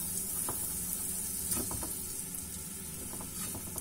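Butter melts and sizzles in a pressure cooker for moules marinière, a close, steady hiss of frying with a few faint scrapes and clicks of a utensil against the pot.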